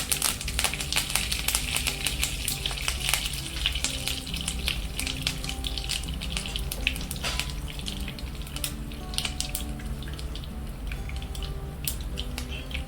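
Mustard seeds, fenugreek, chilies and curry leaves fry in sesame oil for a Kerala side dish, with steady close sizzling, sharp crackling pops from the seeds and occasional stirring clicks throughout.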